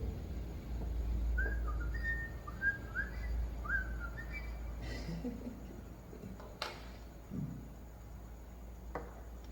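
Outdoors, a bird gives a series of short whistled call notes in quick succession early on, fairly faint over a low background rumble, followed by scattered clicks and knocks.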